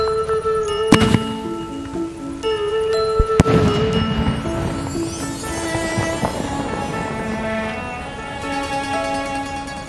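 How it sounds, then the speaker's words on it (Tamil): A Niagara Falls firecracker from Sivakasi, set off for Diwali, shoots up and bursts, then throws a long cascade of crackling, hissing sparks that sizzles on for several seconds after sharp pops near the start. "ஸோ இப்போ மேலே போய் வெடிச்சு அப்படியே கீழே என்ன மொடை மாதிரி இறங்கும்."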